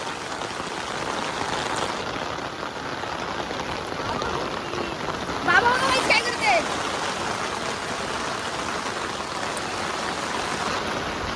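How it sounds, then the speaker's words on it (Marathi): Heavy monsoon rain in rural Khed, Ratnagiri, Konkan pours down steadily, a dense close hiss of drops on surfaces, with a brief voice speaking partway through. "इथे बघा किती जोरात पाऊस आलाय"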